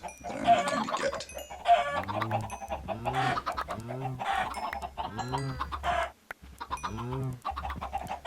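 Minecraft chickens clucking in a run of about half a dozen close, evenly spaced clucks, clear and alone against a quiet game background.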